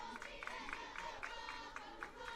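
A crowd cheers at a college softball game between Calhoun and Snead State, with rhythmic chanting and clapping pulsing steadily at a moderate distance over a low murmur of the stands.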